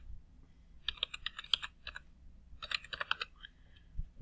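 A computer keyboard clatters in two quick, close bursts of typing with a short pause between them, in a quiet room, as a website address is entered.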